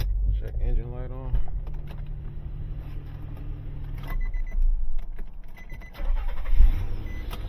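A car with its check engine light on being restarted: an engine cranks and catches, then idles with a steady low rumble. Speech and a jangle of keys come before it.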